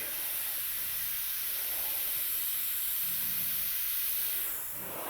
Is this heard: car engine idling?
no